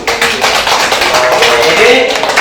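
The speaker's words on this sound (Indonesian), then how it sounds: "tepuk tangan untuk kita semua dulu." Classroom audience clapping together after a group presentation, a dense close patter of many hands filling the whole moment at steady loudness.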